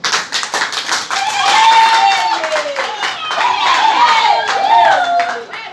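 Audience clapping at a French talk on women and climate change, a steady patter of many hands with voices and cheering mixed in throughout.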